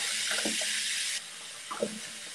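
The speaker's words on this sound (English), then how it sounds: "Sorry, that's my water running." Tap water runs into a sink at home, a steady broadband hiss that drops in level partway through as the flow changes, with a few faint clatters near the basin.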